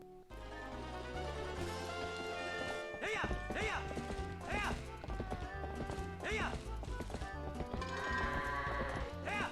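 Goats bleat in repeated rising cries during goat herding in the video game Zelda Twilight Princess, heard over steady game music with a few hoof-like clops.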